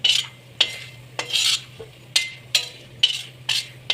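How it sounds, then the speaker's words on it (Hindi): Dakhni mirch is fried in a pan at home for winter laddus. A spatula scrapes and clinks against the pan in sharp, regular strokes, about two per second, over a faint sizzle and a low hum. "अब इसको फ्राई कर रही है मम्मी।"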